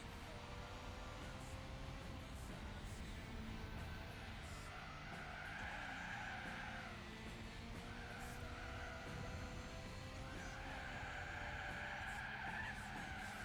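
Car drifting with tires skidding and squealing in Gran Turismo 4, a Japanese compact cup race; a continuous loud tire screech rises and falls over steady engine drone, with no talking.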